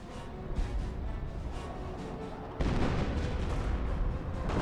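A rocket barrage rains down in Company of Heroes, a World War II strategy game: a steady rumble of rapid explosions that surges louder midway and stays dense to the end.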